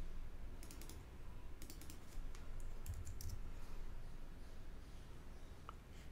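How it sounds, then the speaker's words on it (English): Quiet, close keyboard typing on a computer: a few short clusters of light key taps and clicks over a low background hum, with no speech. "Double click the second keyframe and type in your new value."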